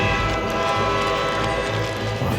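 A train's horn blares in one long, steady, harmonic-rich blast at a railway crossing at night, loud and continuous throughout with a low rumble beneath it.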